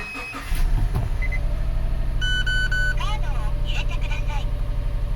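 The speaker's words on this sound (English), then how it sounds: "So we start the engine again." A 2012 Subaru engine with a misfire cranks and catches, then settles into a steady low rumble, with a few chirpy electronic beeps and tones over it.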